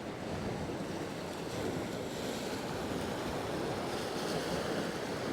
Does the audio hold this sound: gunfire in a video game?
no